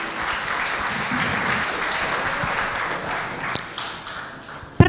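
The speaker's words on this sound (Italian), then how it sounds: "Rinnoviamo l'applauso" A film festival audience in Ruvo del Monte, Basilicata, claps steadily in a hall, a broad sustained wash of applause with a few sharper individual claps near the end.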